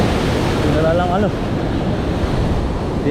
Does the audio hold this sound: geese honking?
no